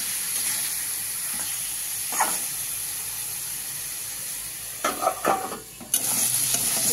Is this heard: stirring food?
yes